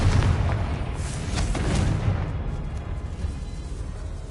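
In the Hogwarts Legacy video game, a Confringo blasting spell explodes in a catacomb with a loud, deep booming blast that rumbles and slowly fades over a few seconds.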